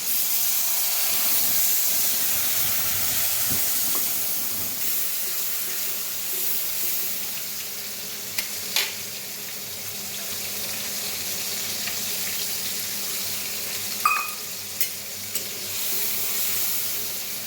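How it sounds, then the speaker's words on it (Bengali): Water poured into a hot pan of hilsa belly pieces spiced with turmeric, chili powder, cumin and coriander powder makes a loud, continuous steaming sizzle and hiss. It fades slightly and carries a few small pops, with no talk. "এখন একটু পানি দিয়ে দিব।"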